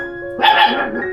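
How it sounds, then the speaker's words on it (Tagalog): A dog gives a single loud, close bark burst lasting under half a second, set against a steady low hum and with no talking. "Nasaan na yung aso na yun?"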